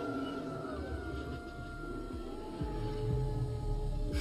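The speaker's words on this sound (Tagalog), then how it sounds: "Naririnig mo ba yun? Yun ang mga alulong ng mga mababangis na nilalang na gutom sa laman" Drawn-out howls of wild creatures in a fantasy drama, several wavering tones rising and falling together over a low rumbling backdrop, fairly distant and continuous with no talking.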